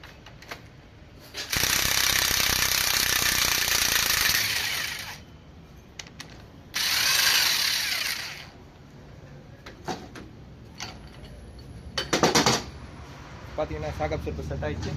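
Impact wrench bursts on the center nut of a shock absorber during front suspension work on a TATA Tigor: two loud sustained bursts of about three and one and a half seconds, then a short burst, with workshop clatter between.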